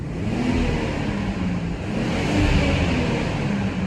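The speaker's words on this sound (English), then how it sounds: "the turbo kicking way more on" BMW 540i with the B58 turbocharged engine revving hard under acceleration, a steady close-up mechanical roar and whir that swells slightly toward the end, no talking.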